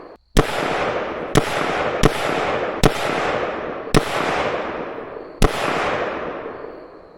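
A muzzleloader rifle with canted iron sights fired outdoors at a shooting range, six loud sharp reports spaced about a second apart, each followed by a long decaying echo.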